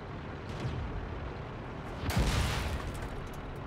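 A high-explosive shell from a Panzer IV-H strikes a tank in World of Tanks, giving one sharp, fairly loud impact burst over a low, steady rumble of battle.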